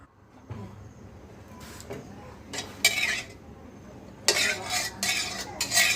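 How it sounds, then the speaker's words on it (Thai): A metal wok clatters onto a burner, followed by bursts of clinking and scraping cookware, with hissing sizzle as oil hits the hot surface. "ตั้งกระทะใส่น้ำมันเลยนะครับ"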